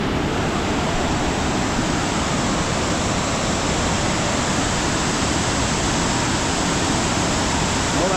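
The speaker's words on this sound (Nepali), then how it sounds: "झरना" Waterfall along the Seti River near Pokhara, a loud, dense and unbroken roar of falling water holding steady throughout with no voices.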